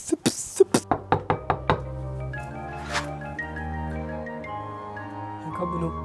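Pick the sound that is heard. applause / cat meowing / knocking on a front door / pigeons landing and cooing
knocking on a front door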